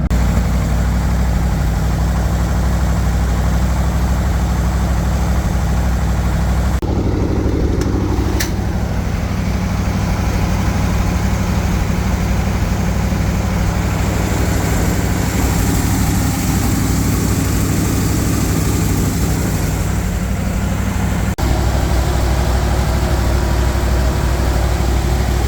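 The engine of a Bombardier snow vehicle runs through a test, a loud and steady low rumble close at hand that hums without pause. Brief shifts in tone come near the seven- and twenty-one-second marks.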